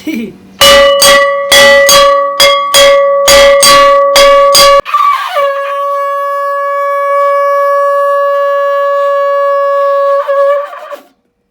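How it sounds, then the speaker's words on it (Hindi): A temple bell rings during a Satya Narayan puja with about ten rapid, loud metallic strikes, then a long ringing tone that holds for several seconds before fading. "घंटा बजाइए, घंटा देखिए, घंटा बज रहा है।"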